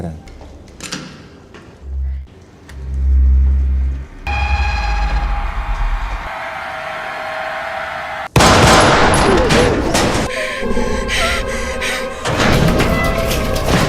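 Gunshots ring out in a film scene in which an old woman fakes death, then rises to shoot a robber at a farmhouse, with loud sharp bangs and slams among music and a voice narrating.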